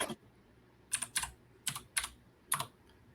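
Typing on a computer keyboard with custom art keycaps, six or so sharp, close clicky keystrokes spaced irregularly over a few quiet seconds.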